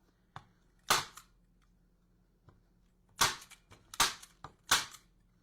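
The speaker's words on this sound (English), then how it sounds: "we're going to come back to our staple gun. And staple on either corner, and staple the middle." A staple gun fires staples through pipe cleaner into a holiday wreath, giving sharp, close clacks: one early snap, a loud shot near one second, then a cluster of four or five loud punches in the second half.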